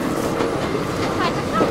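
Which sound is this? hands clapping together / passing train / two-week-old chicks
passing train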